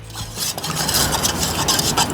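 A spoon stirs a strawberry drink from a Lithuanian military dry ration in a cup, giving a continuous close scraping and swishing rasp for about two seconds.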